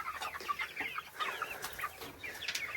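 Buckeye hens and roosters mixed with partridge Chantecler chickens cluck repeatedly at close range inside a moveable hoop-coop chicken tractor on pasture, a busy run of short overlapping calls with no talking.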